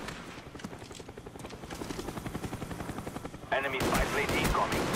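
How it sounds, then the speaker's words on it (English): Helicopters in the video game Call of Duty Black Ops, a steady rhythmic rotor thumping with bursts of gunfire layered in, growing louder and denser toward the end. "Oh my god, so many choppers."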